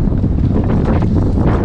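Strong, steady wind buffeting the microphone while kayak fishing for speckled trout in winter, a loud continuous low roar with no voices.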